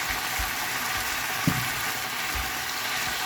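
Part-steamed vegetables fry in a pan with soy and oyster sauce, giving a steady, even hiss that runs throughout, with a few soft knocks from stirring.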